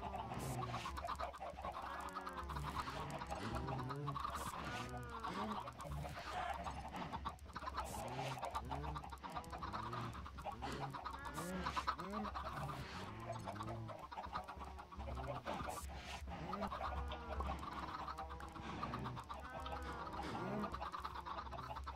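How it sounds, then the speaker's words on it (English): Chickens in the Minecraft video game cluck over and over in a busy, overlapping stream of short calls, continuing without pause over a steady low background hum. "Okay, that takes care of the roving chickens."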